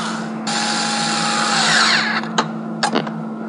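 A power drill whines loudly for about two seconds, tightening a fitting on an RV propane water heater, its pitch shifting as it tightens, followed by a few brief short spurts.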